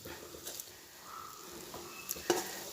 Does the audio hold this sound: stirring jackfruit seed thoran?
yes